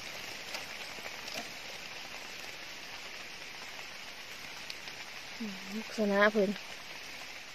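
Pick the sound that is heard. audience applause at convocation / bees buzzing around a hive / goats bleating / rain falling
rain falling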